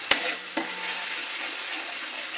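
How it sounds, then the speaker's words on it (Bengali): Onions sautéing in a pan, with a steady broad sizzle throughout and two sharp clinks of a spoon or spatula stirring against the pan near the start. "পেঁয়াজে মিষ্টিটা আমি দেবো, একটু কষিয়ে নেবে।"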